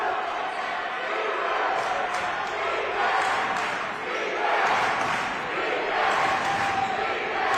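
A college basketball crowd in a men's championship game chants defense, with a loud, steady roar of many voices swelling and falling in rhythmic waves through the arena.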